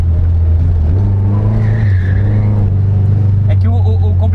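Original Chevrolet Chevette drifting on small, old, overinflated tires, its engine droning loud and steady while tires skid and squeal through the pass, with people talking over it.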